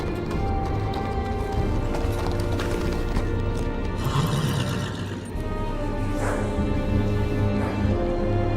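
Steady horse hooves clip-clopping with an occasional whinny in the Telltale Game of Thrones video game, layered over a continuous ambient music bed and background noise.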